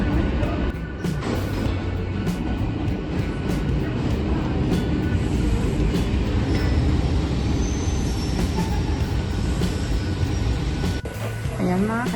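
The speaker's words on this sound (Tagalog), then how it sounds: "ang ating sasakyang train ay dumating na" A train pulls into a station with a deep rolling rumble and clattering wheels. Brief squeals and hisses sound as it slows, close and loud throughout.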